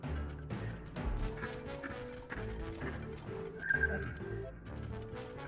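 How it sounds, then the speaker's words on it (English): Horse hoofbeats from Tears of the Kingdom, a steady clip-clop gallop set against continuous tonal game music, moderately loud and unbroken throughout. "There's no way I'm going to be able to take this stall horse."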